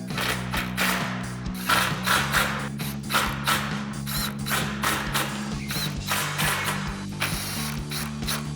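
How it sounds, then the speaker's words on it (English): Impact wrench with a 6mm Allen socket tightening aluminum roof rack bolts on a Jeep Wrangler JK: loud, close bursts of rapid rattling hammering, repeated many times in a steady rhythm with short gaps between. "This is all with a 6mm Allen socket and our impact."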